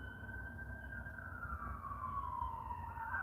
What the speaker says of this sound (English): This is like the third emergency vehicle to pass by.